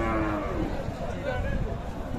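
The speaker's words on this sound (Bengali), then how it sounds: "মহিষ, গাভী মহিষ।" A Friesian cow buffalo with her calf at a livestock market moos in a long, low, loud call, with people talking nearby and market bustle all around.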